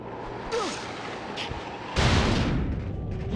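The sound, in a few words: ice cannon firing in Spyro video game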